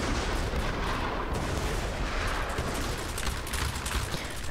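Continuous dense battle noise from Roblox Conquest, heavy artillery and gunfire blending into a steady, loud rumble of overlapping blasts with no clear gaps, distant and sustained throughout.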